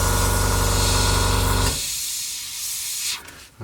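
Airbrush spraying paint freehand onto a Kinetic Harrier GR3 model kit, a loud steady hiss of compressed air for about the first half that then cuts off, leaving only faint quiet background.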